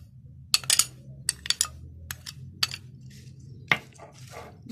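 A spoon clinks and scrapes against a bowl while creamy fruit chaat is mixed, giving scattered, bright taps at irregular intervals over a quiet background.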